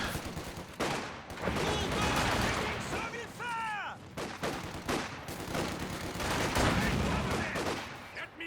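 Gunfire and artillery-style blasts from a Company of Heroes 2 competitive match, dense repeated bursts and booms running almost continuously with a few brief whistling tones mid-way.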